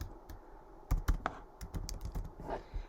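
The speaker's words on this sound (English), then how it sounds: "Now, I'm going to type in Floriani here." Keys clack on a computer keyboard while lettering is typed in, a quiet irregular run of sharp taps with a few louder strokes close to the microphone.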